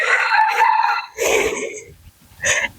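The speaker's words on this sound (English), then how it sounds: "apologies for the chickens in the audio recordings" Chickens crow and cluck early in the morning, a rooster's long crow followed by shorter crowing bursts and clucks, loud and close with brief pauses between calls.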